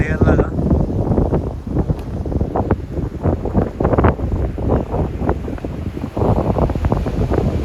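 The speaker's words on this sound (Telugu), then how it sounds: "గాలికి ఇసుక అంతా వెళ్ళిపోతుందో పైన ఒక లేయర్ లాగా." Strong wind gusting across a Kerala beach at sunset, blowing sand along the surface in a rough, buffeting roar that hits the microphone, loud and close, with faint voices underneath.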